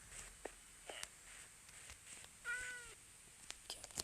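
A short cat meow from Minecraft rings out once, surrounded by quiet background with scattered small clicks and taps.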